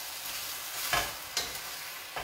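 Crushed garlic sizzling in a pot over rising heat, a steady bright frying hiss with a few sharper spatters and the scrape of stirring, close up and without talk.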